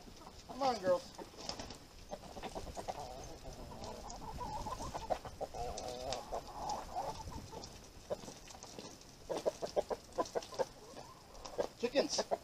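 Chickens clucking and calling at a rural off-grid cabin, a busy chorus of close, agitated clucks, with a person talking over them at times.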